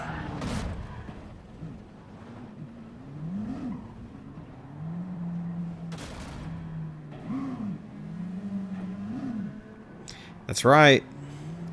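Race car engine in a racing video game on the final lap, a steady mid-pitched drone rising and falling with gear changes under ongoing talk, ending in a brief sharp, loud high-pitched burst near the end.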